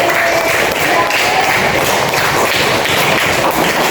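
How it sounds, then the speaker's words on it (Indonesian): A classroom of students claps together during a lesson on simple electric circuits, dense continuous applause close by and loud throughout, with no pauses. "Tepuk tangan lagi."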